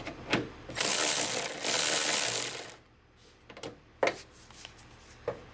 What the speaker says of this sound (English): So now I'm gonna remove these 2 bolts that hold the tailgate latch on the tailgate